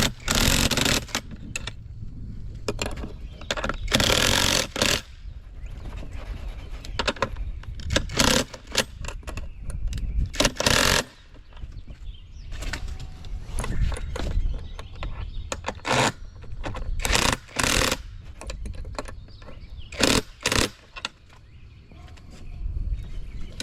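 A caster on a 43-inch creeper is tightened with an adjustable wrench, giving a stream of loud metallic clinks, clanks and rattles in irregular bursts, close up with no talking.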